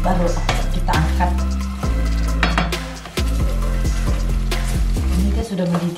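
Thick undang (lobster) sauce bubbles and sizzles in a pan as it boils, a continuous crackling texture under steady background music.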